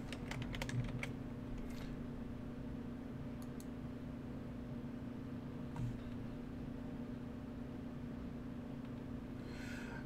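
Rapid bursts of typing on a computer keyboard, quiet clicks clustered at the start and scattered later over a steady low hum from nearby equipment.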